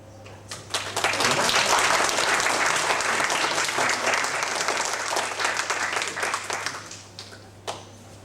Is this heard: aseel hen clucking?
no